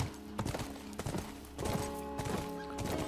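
Steady clip-clop of horse hooves in The Last of Us Remastered, a rhythmic trot that is moderately quiet over a continuous game ambience, with no speech.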